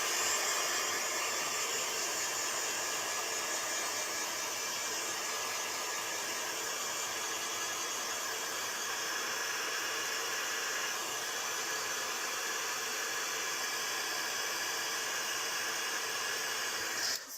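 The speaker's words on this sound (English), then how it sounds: "I'm going to get the heat gun and dry it." Heat gun blowing steadily to dry watercolour pieces laid side by side, a loud continuous airy roar lasting throughout without pause or voices.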